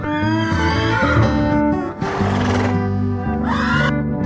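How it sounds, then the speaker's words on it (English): A horse neighs loudly and close, its whinny rising and wavering over a sustained musical background. "Horse."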